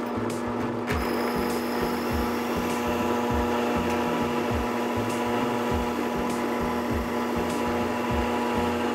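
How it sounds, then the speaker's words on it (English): A hole saw in a drill press cuts into scrap lumber, a steady loud motor hum with a rhythmic grinding chatter as the teeth bite the wood, running continuously throughout. "I've got my hole saw chucked up in my drill press."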